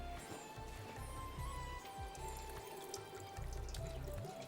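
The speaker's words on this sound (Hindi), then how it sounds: "ये मैं पानी ज़रा सा ड्रेन कर दूँ" Water drained from a pot of cooking pulao (rice) pours and splashes steadily in a kitchen, a continuous trickling rush with low clattering underneath.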